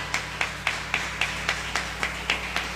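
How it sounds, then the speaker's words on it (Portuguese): In a church during prayer, hands clap in a steady rhythm, about four sharp claps per second, moderately close over a low background hum. "Aplauda ao Senhor"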